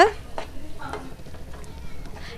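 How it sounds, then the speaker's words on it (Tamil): Vegetables coated in ginger garlic paste are stirred in a pan while preparing a lobster roast, with soft scraping strokes and a light sizzle close by, in scattered irregular bursts. "சேர்த்துட்டு நல்லா கலந்து விட்டுருங்க"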